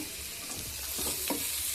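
A spice tempering for okra sambar sizzles in a hot pan, a continuous close crackle with a few soft stirring scrapes and taps on top and no voices.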